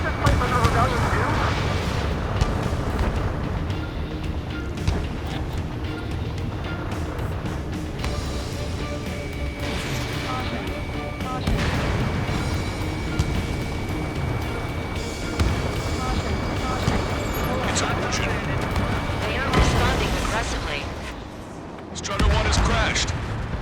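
Rumbling artillery and gunfire from allied forces in the flight combat game Ace Combat 7, a thick continuous roar of distant blasts and booms layered under radio-style voices and engine noise.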